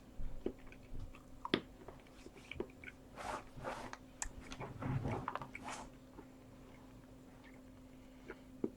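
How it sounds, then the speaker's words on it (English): Chocolate being chewed close to the mic: soft, irregular crunchy and squishy mouth sounds clustered over several seconds, quiet with a low hum behind, no talking. "it's a nice sound of me chewing chocolate"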